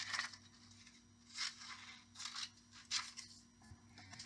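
Scissors snip through paper while cutting out a paper shark, a series of close, crisp swishing cuts arriving in short irregular bursts over a faint low hum.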